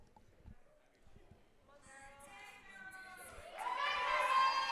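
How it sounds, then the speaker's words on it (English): A powerlifting crowd at a national championship meet starts with scattered voices and thuds, then swells into cheering and shouting for a lifter, growing louder toward the end. "Crowd getting behind her."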